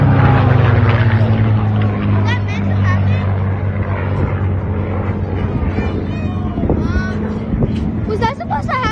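Four-bladed propeller warbird aircraft at an airshow, a loud sustained droning engine roar that shifts in pitch as it passes, with crowd voices talking over it.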